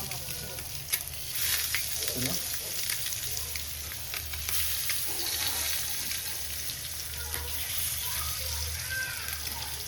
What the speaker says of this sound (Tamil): இப்போ நம்ம எக் ஃப்ரை பண்ண போகிறோம்.